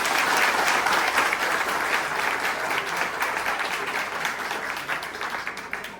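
A parish congregation applauds to welcome new priests and pastors, loud sustained clapping from many hands that stays strong for six seconds and tapers slightly toward the end.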